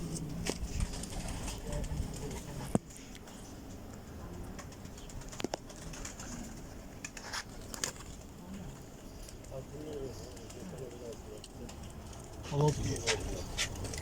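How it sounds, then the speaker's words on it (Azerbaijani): Racing pigeons at a pigeon club in Bine, Baku, during a summer race, with soft cooing and occasional wing flaps amid outdoor ambience and sparse sharp knocks, people chatting at a distance. "10-cu quşumuz gəldi düşdü"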